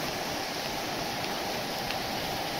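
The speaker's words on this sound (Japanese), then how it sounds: "すごい雨なんです。" Steady, dense broadband hiss of heavy rain pouring down, constant and enveloping with no pauses or voices.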